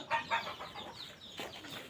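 Desi hens cluck on a farm with egg crates, giving a few short, close clucks in quick succession followed by softer scattered calls.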